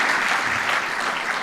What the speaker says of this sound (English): We give her a clap, really.